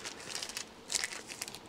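A plastic bag crinkles while being handled during assembly of the forks on a Yamaha 100 Trailmaster, a close, quiet run of rustles with one slightly louder crackle.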